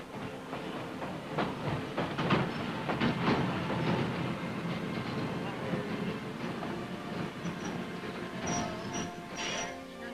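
A train rolls along with rhythmic clattering and rumbling, wheels clicking over rail joints, with some faint hiss and high squeals near the end.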